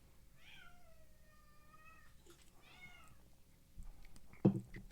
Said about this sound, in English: I have a cat now.